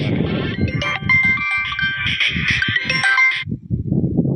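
A phone ringtone plays a bright repeating melody for a few seconds, then stops, while goats or sheep bleat nearby throughout.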